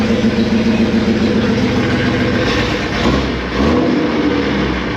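Repaired Jeep engine running steadily up close, holding a constant drone with a slight dip and rise in revs toward the end, no talk over it.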